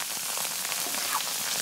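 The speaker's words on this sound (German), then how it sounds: "So, jetzt nochmal kurz den Käse anbraten hier." Cheese frying in a pan, a continuous close hiss and crackle of sizzling with no pauses.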